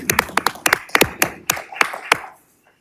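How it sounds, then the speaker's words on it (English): Scattered hand claps at a school board of education meeting, about nine sharp, uneven claps from a small group over two seconds, fairly close, then quickly dying to silence. "And we'll get a round of applause."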